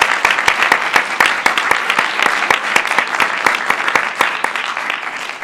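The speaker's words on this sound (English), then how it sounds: "please join me in giving one last massive round of applause to all 4 of our student presenters today" Energetic applause for student presenters at an undergraduate presentation event, many hands clapping in a dense, crisp patter that stays loud and steady, with voices faintly mixed in.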